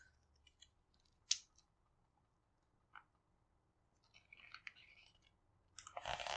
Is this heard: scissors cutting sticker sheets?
yes